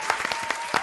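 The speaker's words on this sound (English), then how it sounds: "Give the Lord a round of applause." A congregation claps and cheers in a short burst of applause at a religious radio gathering, dense and steady with sharper peaks throughout.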